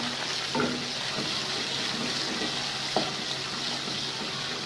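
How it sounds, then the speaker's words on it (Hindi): Tomatoes fry with browned onions in a pan, giving a steady, even sizzle throughout with a couple of brief utensil knocks against the pan, close by and fairly loud. "इसमें मैंने टमाटर लिए, वो भी मैं इसी में डाल के फ्राई कर लूँगी ज़रा"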